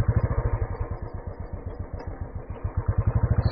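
Royal Enfield Classic 350 motorcycle engine running close by, its low single-cylinder thump pulsing in a steady, even rhythm, briefly rising and settling, with no talking.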